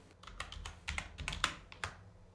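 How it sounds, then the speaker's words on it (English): Close, quiet typing on a computer keyboard: a short burst of about a dozen soft key clicks in uneven clusters, with no voice over them. "let's type anything that you want"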